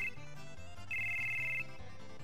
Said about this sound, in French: Un téléphone?